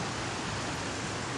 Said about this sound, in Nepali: खोला हेर्नुहोस्, खोला यस्तो